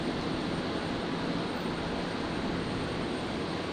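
A Jetstar Airbus A321neo pushes back at a domestic terminal in Christchurch, giving a steady, even wash of jet engine noise at moderate distance, broadband and unbroken throughout with no voices.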